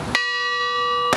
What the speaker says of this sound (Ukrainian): Сам дзвін на вулиці. Він сьогодні битиме рівно 7 разів.